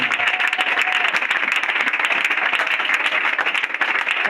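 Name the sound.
congregation applauding to acclaim Jesus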